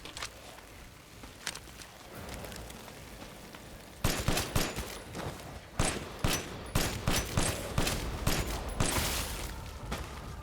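Pistol fire in the video game Resident Evil Village: after a quieter stretch of footsteps and rumble, a close run of sharp, loud shots cracks out at an irregular pace, about one or two a second.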